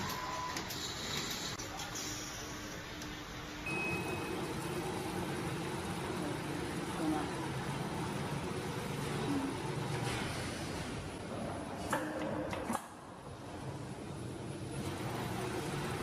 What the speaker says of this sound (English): machine automates the insertion of insulating paper into the stator slots, ensuring precise and accurate placement